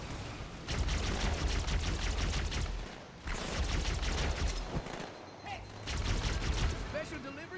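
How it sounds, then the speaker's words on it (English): Grenades thrown and exploding in the Halo 2 mission Outskirts, loud bursts of blasts and crackling gunfire across the clip, with two brief lulls, under a busy game mix with speech-like sounds. "Basically just chucking my grenades because I'm out of ammo here"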